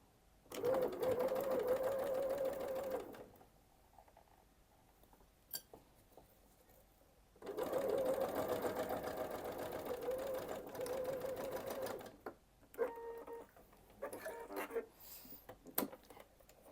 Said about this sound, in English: we're just going to sew right the way down here